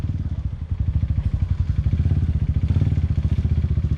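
A hard enduro motorcycle working off road on a trail, its engine chugging loudly and steadily with a rapid, pulsing throb that surges slightly as it accelerates, close by, with no voices over it.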